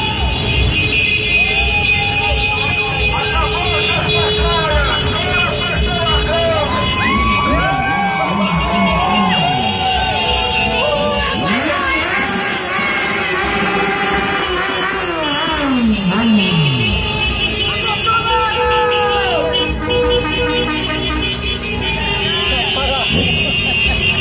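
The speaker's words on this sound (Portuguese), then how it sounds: "Até perder de vista a carreata" A pro-Bolsonaro car parade in Fortaleza, with a long line of cars and a sea of motorcycles rolling past, honking horns in repeated blasts over steady engine noise and crowd cheering, close and loud, with people talking throughout.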